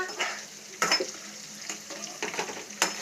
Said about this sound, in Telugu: కరివేపాకు, ఉల్లిపాయలు, పచ్చిమిరపకాయలు వేసావా?